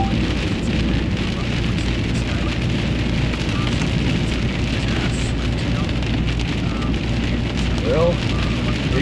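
Hail pounding a car windshield during a nighttime storm chase near Greenville, Illinois: dense, continuous loud rattling and drumming on glass, steady throughout with no pauses.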